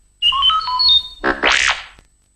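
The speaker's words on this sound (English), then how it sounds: "You will know it is time to turn the page when you hear R2-D2 beep like this." A quick run of R2-D2-style electronic robot beeps and warbling chirps, used as a page-turn signal, ending in a rising whistle and a short click, clear and alone.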